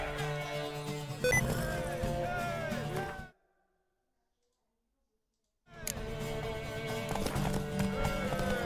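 Galloping horse hooves clip-clop rapidly during a race in the video game Witcher 3, loud and rhythmic over music, broken by a sudden stretch of complete silence before resuming.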